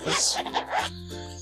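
A short bag zipper being pulled open on a bug-out survival backpack, a couple of quick rasping strokes close up, followed by a low steady hum.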